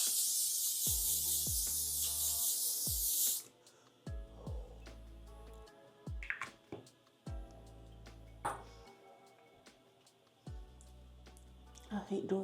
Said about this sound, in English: We're gonna do the L'Oreal Infallible 3-second setting mist.